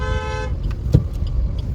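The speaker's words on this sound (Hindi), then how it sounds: "हॉर्न दो" A single car horn sounds one sustained honk lasting about half a second on a road near Corbett National Park in Ramnagar, followed by the low rumble of the moving car.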